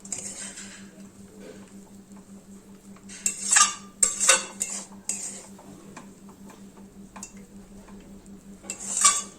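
Vermicelli and grated coconut are stirred in a pan over a low gas flame, a soft scraping patter broken by several sharp clinks of a spoon against the pan, close and fairly quiet under a low steady hum.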